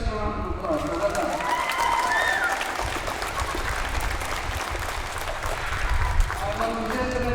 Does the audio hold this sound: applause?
yes